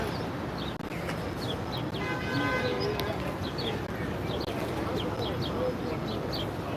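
Birds singing outdoors, with faint repeated chirps over a steady wash of background noise and talk.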